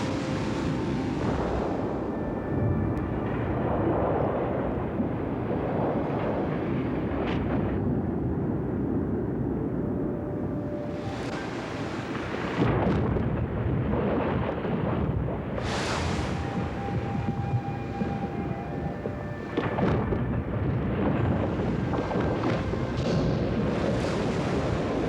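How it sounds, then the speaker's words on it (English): Calving glaciers in an Alaskan national park give off deep rolling rumbles and crashes like thunder, long sustained roars that swell and fade over a continuous wash of water and wind. "listen to what the Tlingit Indians called white thunder, calving glaciers"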